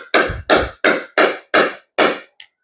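Six crisp, evenly spaced pops from a pickleball struck with a plastic core paddle, each a sharp hollow knock with a short decay, followed by a faint softer tap at the end.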